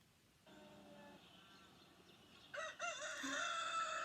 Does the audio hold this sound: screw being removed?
no